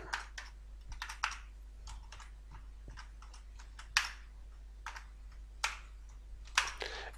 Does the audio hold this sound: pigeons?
no